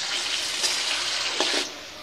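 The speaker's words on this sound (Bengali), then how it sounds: "তেল ভালোভাবে গরম হলে এখন আলুগুলো দিয়ে ভেজে নিচ্ছি।" Potatoes frying in hot oil in a pan, with a steady broadband sizzle throughout and a couple of brief louder crackles near the end.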